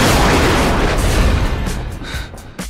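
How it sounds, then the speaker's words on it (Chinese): Fireworks burst in a fantasy drama scene, a loud broadband whoosh that swells at once and slowly fades over a few seconds, ending with a faint final pop. "辣木烟花，只为你放。"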